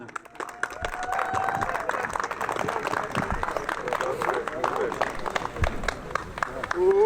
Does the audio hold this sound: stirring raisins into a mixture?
no